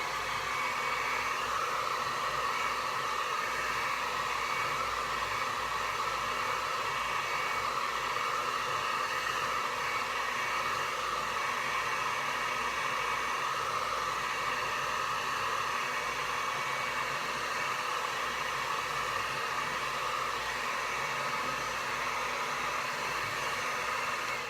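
Hair dryer blowing continuously to dry acrylic paint on a tropical fish painting, a steady close hiss and motor whine with no talking.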